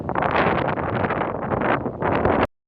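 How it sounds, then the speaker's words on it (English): Strong wind buffets the microphone in a continuous loud roar with gusty swells, then cuts off abruptly, on a downhill walk outdoors near forest in London. "And the wind's picked up."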